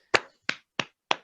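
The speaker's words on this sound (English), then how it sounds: "So students, please clap for Hemant." Four sharp, evenly spaced claps from a few hands in a classroom of students, crisp and close, each ringing briefly before silence.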